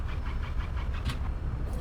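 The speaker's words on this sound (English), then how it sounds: "Super realistic engine start sounds" Piston airliner engine cranking and catching in X-Plane 11, a rough pulsing rumble with rhythmic chugging beats close and loud, no talk.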